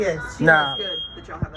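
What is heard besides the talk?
fire alarm going off with no cooking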